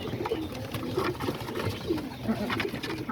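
Homing pigeons coo in a loft, giving repeated soft, low throaty coos at close range over a steady, muffled background, with no speech.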